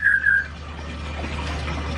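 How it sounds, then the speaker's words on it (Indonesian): A sooty-headed bulbul calls from outside an aviary, giving two quick, clear whistled notes at the start before fading into a quiet background hiss. "Tuh, di luar ada kutilang guys."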